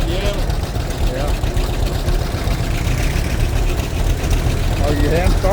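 An old hand-started tractor at a spring fest tractor show in Killen, Alabama, its engine running with a steady low rumble throughout while people talk nearby.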